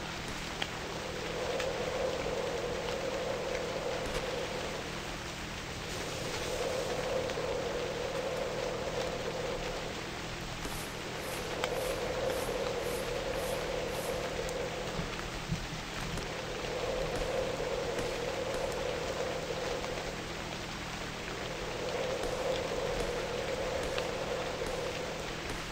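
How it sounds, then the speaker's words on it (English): Steady rain falling in the survival game Novus Inceptio, a continuous hiss of drops with gentle rhythmic swells every few seconds, heard alone without talk. "At least the rain's stopping."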